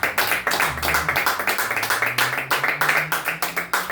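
A church congregation claps during a Spanish-language sermon, steady rhythmic claps in unison, roughly four per second, with a sustained musical tone or voice underneath.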